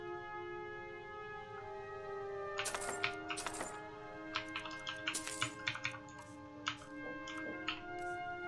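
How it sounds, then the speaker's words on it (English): Keyboard keys click during a video game session. The sharp taps come in irregular clusters, some in quick runs and some single, over a soft, steady backdrop of sustained game music tones. "hopefully the keyboard clicking isn't too loud"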